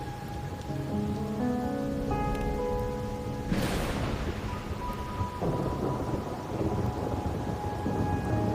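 Rain pours steadily through a stormy scene in the Wuthering Waves video game, with a sharp thunder crack midway that rumbles off, while soft sustained music tones play underneath.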